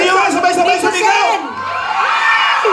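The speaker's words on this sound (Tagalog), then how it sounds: "Kayo nga, sabay-sabay sumigaw!" A studio audience at a Filipino noontime variety show shouts and cheers together, a loud massed roar of voices that dips briefly and then swells again.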